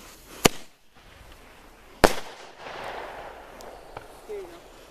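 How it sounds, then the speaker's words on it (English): Two sharp, loud air bomb firework blasts go off outdoors at a campsite, the first near the start and the second about a second and a half later, each followed by fading crackle and echo, with faint voices afterward. "This is not a cherry bomb. Air bomb, buddy."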